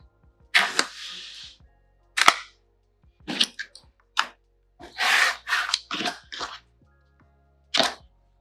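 Scissors cut fabric for a bag in a series of sharp, close snips, some single and some in quick bursts, separated by short quiet gaps.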